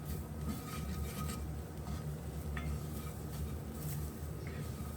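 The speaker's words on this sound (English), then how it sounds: "Mixing in well, allowing everything to cook" Khatti dhal being stirred and cooked in a pot, giving a continuous soft sizzle and bubbling with faint scraping of the spoon, steady and fairly quiet with no talking.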